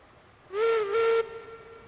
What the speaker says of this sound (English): I really like the whistle on the Mogul.